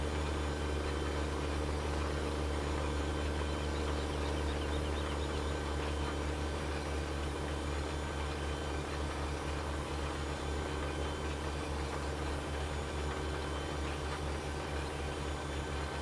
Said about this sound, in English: I also very much like the tractor sounds when the tractor is pulling